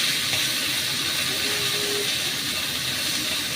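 Okra frying with beaten egg in a pan gives a steady, close hiss of sizzling oil that holds evenly from start to finish, with no talk.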